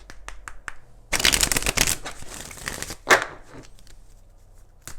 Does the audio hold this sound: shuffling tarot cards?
yes